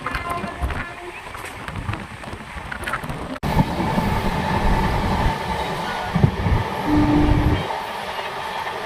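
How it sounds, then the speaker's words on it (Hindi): A train of LHB coaches hauled by a WAP-7 electric locomotive rumbles past close by with steady rolling clatter, and a short electric horn tone sounds briefly; voices are faintly audible beneath the noise. "ये हमारे WAP-7 का हॉर्न है।"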